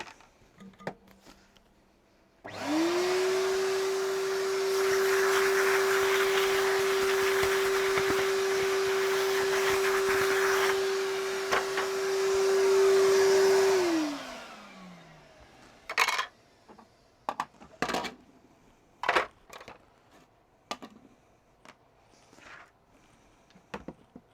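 Vacuum cleaner running while cleaning parts of a Hoover Junior U1206 upright, switched on with a steady drone for about eleven seconds, then winding down, followed by scattered clicks and knocks of handling.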